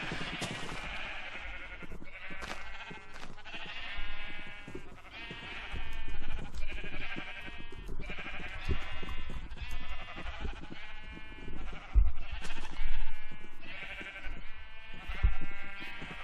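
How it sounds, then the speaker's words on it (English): Sheep in a Minecraft-style block-building game bleat repeatedly, a string of close, wavering calls repeating every second or two with little pause, heard alone without talk. "I guess we could have one white sheep."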